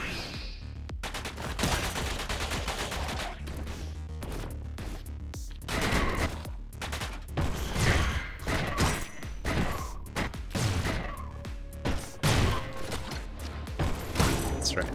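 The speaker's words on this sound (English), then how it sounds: "the Semtex launcher is kind of the delayed explosive type" Gunfire and explosions from the Semtex launcher's delayed explosives in the video game Orbital Bullet: a dense run of repeated sharp blasts and crashes with mechanical clatter, loud and close, and a voice breaks in now and then.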